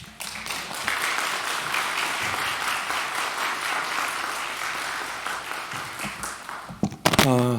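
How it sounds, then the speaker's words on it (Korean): A church congregation applauds to welcome their pastor to the front, a steady, dense roar of clapping lasting several seconds before a voice begins speaking near the end. "이제 목사님 나오실 때 우리 환영의 박수로 우리 목사님 맞이하도록 하겠습니다"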